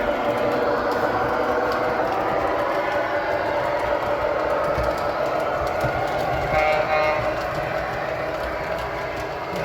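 A train with an RS3 locomotive rolls steadily past a trackside signal, wheels clicking and clacking over rail joints at a moderate distance, a continuous rumbling pass with no voices.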